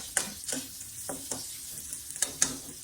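Onion sautéing in a pan for dinuguan, with a soft sizzle beneath a run of brisk, rhythmic stirring scrapes, about seven strokes spread over a few seconds, close and moderately quiet.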